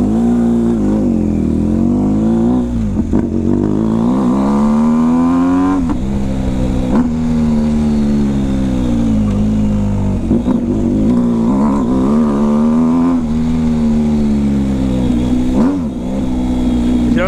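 A motorcycle with only the straight pipe exhaust, loud and deep like a truck, revving repeatedly close by with rising and falling engine pitch through the whole span.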